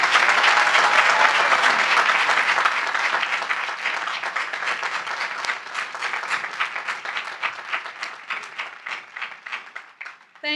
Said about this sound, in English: Let's have a round of applause for those folks.